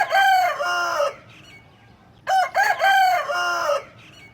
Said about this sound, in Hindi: मुर्गे की आवाज़ सुन के आपको पता चल चुका होगा जी सुबह हो गई है